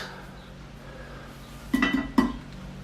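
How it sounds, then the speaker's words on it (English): A heavy Danish casserole pot marked Nako being handled, giving two sharp metallic clanks near the end over a quiet kitchen background. "1 really good casserole. This one weighs an absolute ton."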